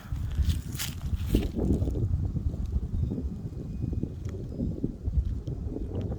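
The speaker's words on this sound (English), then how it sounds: "Oh, it's kind of windy over here." Steady wind buffets the microphone, a constant low rumble throughout with occasional gusts and no talking.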